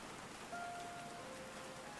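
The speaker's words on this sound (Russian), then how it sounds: "Снова в этот дождливый ад. Поэтому мы и тонули, наверное, потому что дождь-то хлещет на фейс." Steady rain pouring in the Call of the Sea video game, a constant soft hiss of falling drops at moderate level with no speech.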